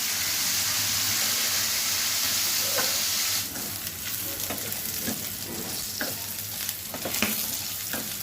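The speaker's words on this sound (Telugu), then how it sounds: "ఇలా చక్కగా ఇలా వేయించాలండి." Bitter gourd pieces fry in a pan with a loud, continuous close sizzle, joined midway by scattered scraping and stirring clicks.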